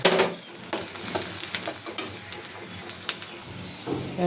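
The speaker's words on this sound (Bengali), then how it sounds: "পেঁয়াজটা হয়ে গেছে, এখন আমি মরিচ ছেড়ে দিলাম।" Chili dropped into onions frying in a pan, with a steady soft sizzle broken by repeated scraping stirs and light clinks of a utensil against the pan, close and alone with no talk.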